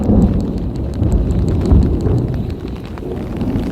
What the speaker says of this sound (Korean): 천둥 번개 미쳤어!